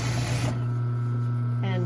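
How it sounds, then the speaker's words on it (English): A sewing machine stitches down the length of a folded fabric face mask, a steady close mechanical hum with a brief backstitch change near the end, speech faint or absent. "I'm going to start sewing down, backstitch there, sewing down the length of it"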